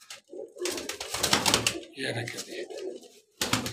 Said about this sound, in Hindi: तो ये सारे इस तरह करके कबूतर है, ये 70 कबूतर टोटल है